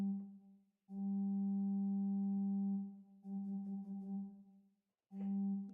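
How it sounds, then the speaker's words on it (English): Sustained electronic keyboard tones held in several separate notes with short gaps between them, steady and clean with strong harmonics, heard alone. "this is the sound of the keyboard"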